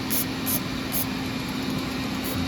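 Cleaner sprayed onto a 6.0 Powerstroke diesel engine block in short, hissing bursts, about four of them, close to the mic over a steady low hum.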